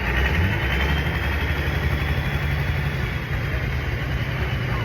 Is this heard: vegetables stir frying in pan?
no